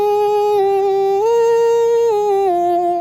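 A high, pitched vocal chop sample from a beat holds steady notes and steps up and back down, sounding smooth and sampled, with no accompaniment.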